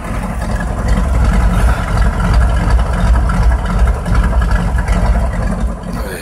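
A 1983 Ford F100 Stepside truck engine idles steadily with a deep, continuous low rumble and a constant loud level, with no talk over it.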